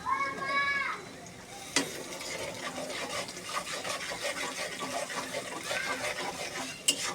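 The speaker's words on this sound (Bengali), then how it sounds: "ভালোভাবে নেড়ে নেব পেঁয়াজ আর তেলের সাথে" Onion and chilli fry in oil while being stirred in a pan for egg noodles, a soft, continuous sizzle with light scraping close by, opening with a brief vocal sound and ending with a sharp clink.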